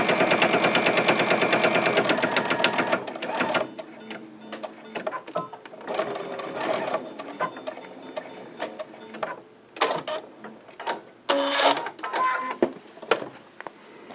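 Sewing machine stitching a seam on a T-shirt quilt with a half-inch seam allowance, a steady close rapid whir for about three seconds, then broken into short bursts and pauses with handling clicks.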